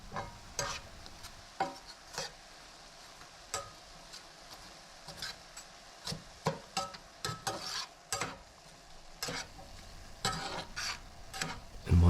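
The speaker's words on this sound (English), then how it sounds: "Start cooking the beef." Ground beef browns in a pan with a soft, steady sizzle under scattered sharp scrapes and taps from stirring. The sound is close but fairly quiet, with no talk.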